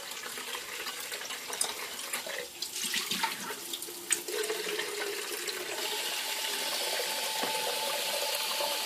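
Hot water runs from a tap into a sink while parts of a Wagner Flexio paint sprayer are washed under it, a close, steady splashing stream with brief clunks of handling midway.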